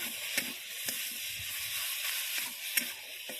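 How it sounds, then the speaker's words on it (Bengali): Mashed banana flower paste sizzles quietly in a pan while being stirred, a soft steady fry hiss punctuated by several sharp scraping strokes of the spoon against the pan. "নাড়াচাড়া করতে হবে, সবটা দিয়ে দিলাম। সুন্দর করে নাড়াচাড়া করতে হবে।"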